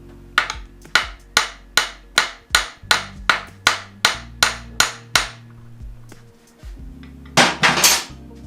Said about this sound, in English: I just got a ball peen hammer. So we're just going to tap on the end of the axle